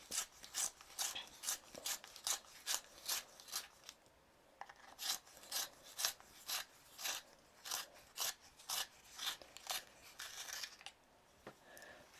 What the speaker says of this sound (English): So I'm just going to sharpen this because it's very short.